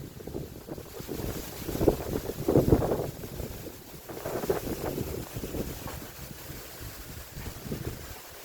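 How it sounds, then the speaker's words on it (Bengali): Strong storm wind blowing hard, a continuous rushing roar with surging gusts that swell and ease over several seconds, fairly close and with no voices. "প্রচুর বাতাস উঠে গেছে।"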